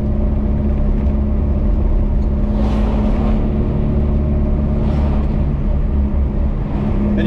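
A Moskvich 2140 car driving, heard from inside the cabin: a loud, steady low engine drone and road rumble that runs throughout, with a couple of brief swells of wind or tyre noise and no talking.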